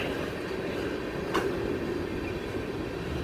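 A train rolls past slowly on the tracks at a steady, even rumble, with one brief metallic squeal partway through and no talking.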